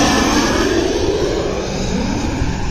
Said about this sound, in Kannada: ಈ ಫ್ಲೈಟ್ ಲ್ಯಾಂಡ್ ಆದ್ಮೇಲೆ ಮತ್ತೊಂದು ಫ್ಲೈಟು ರೆಡಿ ಆಗ್ತಾ ಇದೆ.